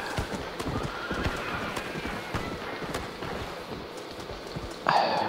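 Horse hooves clip-clopping steadily in the Red Dead Redemption video game, with a neigh and scattered rain-like patter in the background, ending with a brief electronic tone; no one speaks.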